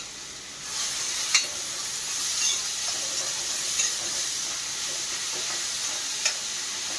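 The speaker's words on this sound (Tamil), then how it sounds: "3 பெரிய வெங்காயம், அதை சேர்த்து நல்லா வதக்கலாம்." Three large onions hit hot groundnut oil in a kadai and break into a steady close sizzle, with a few sharp clinks of a stirring spoon against the pan.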